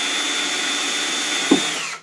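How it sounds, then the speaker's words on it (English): A power drill whines steadily and loudly while boring a 1/8 inch hole in a wooden piece, with one brief clunk near the end before the motor cuts off. "drill a 1/8 inch hole"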